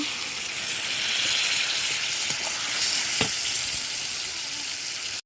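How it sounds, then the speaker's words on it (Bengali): Kaski fish and egg sizzle and fry in a pan, with a dense, even crackle filling the whole stretch and a few faint scraping taps from stirring mixed in. "ডিমটা, দিয়ে ভালো করে নাড়া দিয়ে তারপরে হালকা একটু জল দিয়ে নেব।"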